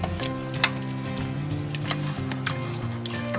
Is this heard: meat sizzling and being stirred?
yes